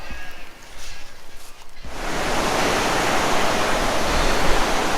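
River water rushes in a loud, steady, broadband roar that starts abruptly a couple of seconds in, after a quieter opening with a faint voice, and then fills the rest of the stretch.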